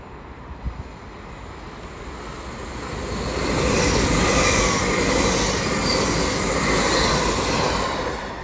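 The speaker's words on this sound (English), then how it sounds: "As also passing is a Lumo service going from London King's Cross to Edinburgh." A Lumo passenger train from London King's Cross to Edinburgh passes through Peterborough station on the East Coast Main Line, its broad rumble and wheel noise swelling midway and holding steady as it rolls by, with no talk.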